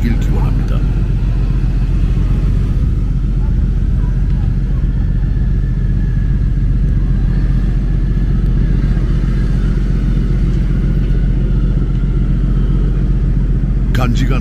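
Motorcycles boarding the Shimonoseki-Busan ferry give a steady, loud low engine rumble that holds for the whole stretch, with a faint higher whine drifting above it.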